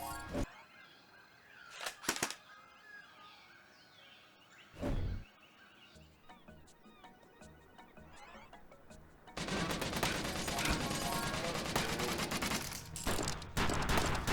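Gunfire from the twin-stick shooter Trigger Witch: scattered sharp shots and bursts early on, then a loud, dense volley of rapid weapon fire with crashing impacts.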